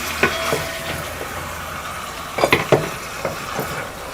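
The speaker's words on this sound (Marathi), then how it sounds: "फोडणीमध्ये चिकन घालून ना पूर्ण असं आपल्याला सगळं एकजीव करून घ्यायचं आहे." Chicken being stirred into a sizzling tempering in a pan on a wood-fired stove for Kolhapuri chicken: scattered clinks and scrapes of a spoon against the pan over a soft, steady sizzle.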